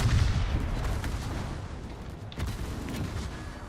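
Naval gunfire in the World of Warships game: dense, sustained booming salvos with heavy low rumble, a fresh volley landing near the midpoint, loud and continuous with no talk.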